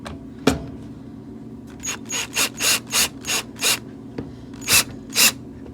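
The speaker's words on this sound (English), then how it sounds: "now I'm just using the drill" A power drill driving screws into a Kenmore 500 washing machine makes a ratcheting, clicking mechanical whir in short bursts, about eight quick pulses in a row with brief gaps, close and fairly loud.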